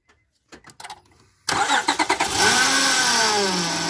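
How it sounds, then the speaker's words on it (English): A Honda Odyssey engine cranks with a few sputters, catches and settles into a steady idle with a continuous moaning whine from a failing power steering pump running underneath. "You hear that moaning sound? It's a big whine."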